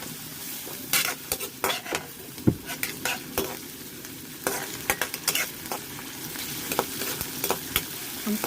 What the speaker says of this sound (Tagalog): Ayan, igisa-gisa lang natin ng mabuti